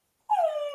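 A dog lying on the floor lets out a single short, high whimpering whine, close and clear against near silence.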